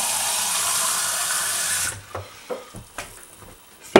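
Tap water runs steadily into a glass jar for about two seconds, then shuts off, followed by a few soft clinks and knocks of glass being handled.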